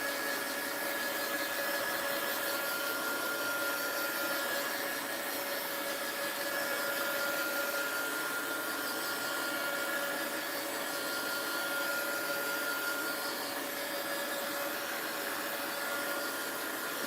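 A heat gun runs continuously for the whole stretch to dry paint on a mixed-media journal page, a loud, steady whooshing blower drone with an even whine.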